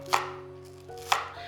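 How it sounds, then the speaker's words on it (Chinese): A knife chops scallion on a board in a kitchen while salmon fries, giving two sharp, close chops about a second apart over a low steady hum. "在煎三文鱼的同时，我来切根葱"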